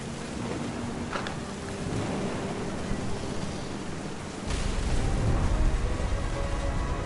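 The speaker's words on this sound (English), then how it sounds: "The thunder sounded much too close and full of angry power." Steady rain pours over a low rumble of thunder in the video game What Remains of Edith Finch, the downpour and deep rolling growl swelling louder about halfway through, with no talk.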